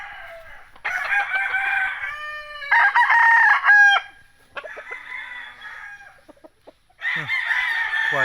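A yellow-legged broodcock rooster crows loudly and close, several long calls separated by short pauses, with a few clucks between them.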